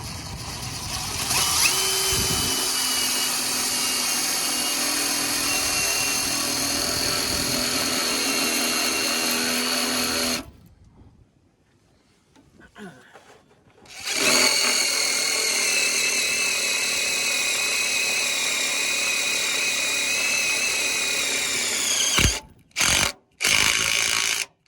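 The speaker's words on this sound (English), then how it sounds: "I got the biggest self-tapper I could find locally" A power drill drives a large self-tapping screw into a truck exhaust, whining loudly and steadily for several seconds, pausing briefly, then spinning up again with a rising pitch before cutting off in a couple of short bursts.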